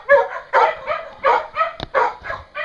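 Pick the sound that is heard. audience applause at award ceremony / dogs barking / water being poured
dogs barking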